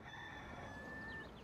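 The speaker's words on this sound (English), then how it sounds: "Romeo is our rooster." A rooster crows once in a long, drawn-out call lasting over a second, close and clear, with no talking.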